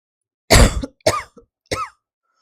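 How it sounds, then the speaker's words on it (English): A coughing fit of three harsh, close coughs in quick succession, each burst short and raspy with brief gaps between, in an otherwise quiet room. "Sorry, I just had a bout of cough."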